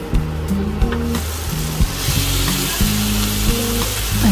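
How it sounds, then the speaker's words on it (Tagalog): Onion, garlic and chicken sautéing in a pan for cabbage and carrots, a loud steady sizzle and crackle running the whole time with occasional scraping stirs. "ginigisa na natin ang sibuyas at ang bawang at ang ating chicken"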